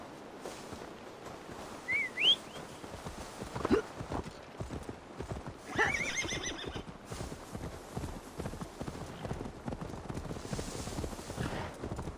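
In Assassin's Creed Valhalla, a horse's hooves clip-clop in a steady walking rhythm, with a short whinny and a few brief high whistles, fairly quiet.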